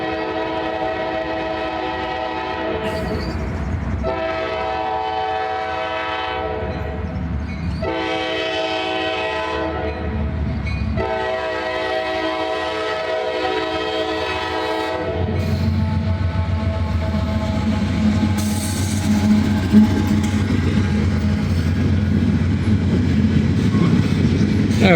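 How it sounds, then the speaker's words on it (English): A 4000 series heritage-unit locomotive sounds its horn in several loud, sustained blasts close by, followed by the heavy, steady rumble and clatter of the train rolling past. "4000 series locomotive."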